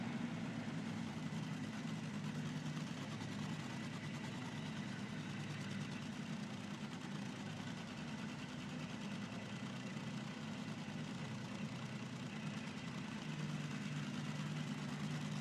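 A nitro funny car engine idles with a steady, dense low rumble before a drag run, constant and unbroken for the whole stretch, heard from a distance.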